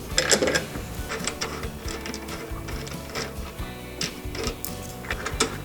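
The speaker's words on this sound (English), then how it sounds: "So I'm taking off the nut." A nut being loosened and unscrewed by hand from a square-ended bolt fitted with a spring washer and flat washer, giving close, irregular metallic clicks, ticks and rattles throughout with no talking.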